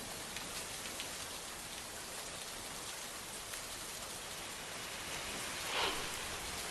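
Continuous heavy monsoon rain pours steadily over the Ranjanoli bypass junction on the Mumbai–Nashik highway in Bhiwandi, a dense even hiss with a brief louder swell near the end and no voices.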